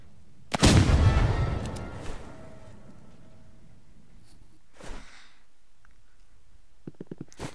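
A grenade explosion in Roblox Rivals, one loud, close boom with a rumbling tail that fades over about a second and a half, followed by a few faint, scattered game noises.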